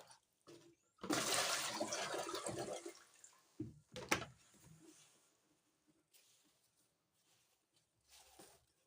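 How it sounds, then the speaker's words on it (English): Rinse water from washed acha grain pours out in a steady splashing rush for about two seconds, followed by a few drips and splashes, then quiet. "So I'll pour out the water."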